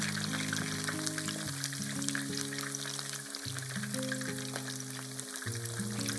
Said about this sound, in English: Next, fry the eggplant.